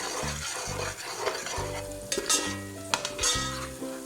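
Onions frying in a pan for chicken biryani: stirring and scraping with light sizzling underneath, with occasional clinks of a utensil against the cookware.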